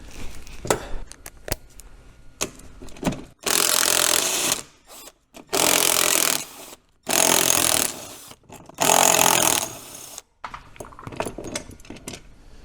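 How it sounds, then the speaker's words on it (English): A standard ratchet working nylock nuts off a Ski-Doo Expedition hitch, with rapid close clicking bursts in four long runs separated by brief pauses and lighter metallic handling between them. "take a standard ratchet, and"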